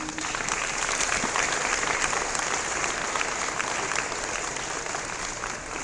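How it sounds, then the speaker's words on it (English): A graduating class of 2017 at a high school college acceptance ceremony applauds parents and guardians, a steady, dense round of clapping from a large crowd held at an even level throughout, with no talk. "give your parents and your guardians a round of applause, please"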